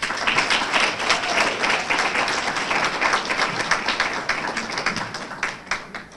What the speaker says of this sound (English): Can we give our graduating seniors one more round of applause?